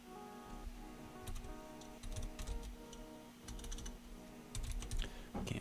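Quick, uneven bursts of clicking come from keys tapped on a computer keyboard, close and fairly quiet, with short pauses between runs and no voices.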